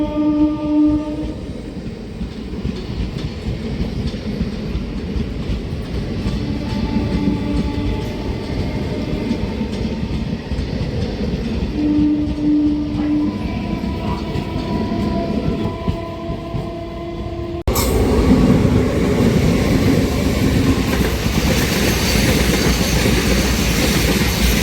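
An Indian Railways train pulls out from platform 2 at Charlapalli station, sustained horn tones sounding over the heavy rolling rumble of the wagons, the noise swelling louder and closer toward the end.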